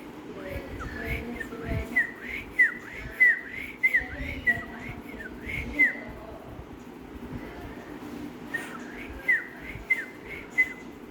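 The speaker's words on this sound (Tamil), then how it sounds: "விசில் அடிங்க, விசில் அடிங்க" A pet cockatiel whistles in repeated bursts of short, rising and falling notes, pausing midway before starting again, with soft low background sounds between phrases.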